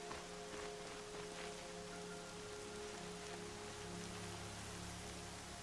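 Steady rain from the video game Horizon Zero Dawn hissing down across a surface, continuous and fairly soft, with a low hum underneath and no voices.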